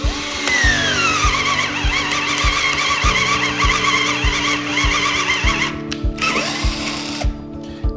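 Power drill boring holes with a 3/4 inch bit, a loud close whining motor with steady grinding and rhythmic pulsing as the bit cuts, easing off and stopping toward the end.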